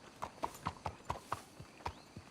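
Horse hooves clop in Red Dead Redemption 2, about ten evenly spaced, crisp footfalls at a steady walking pace, fairly close and moderately quiet, with no talk over them.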